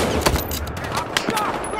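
Gunfire in the police-versus-criminals shooter Battlefield Hardline during a sniper match, several sharp shots cracking in an irregular burst over a busy battle din, with a player's voice talking alongside.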